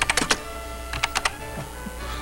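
Quick bursts of typing on a computer keyboard, a few rapid clustered keystrokes then a pause and another short run, fairly close and clear over a low background hum.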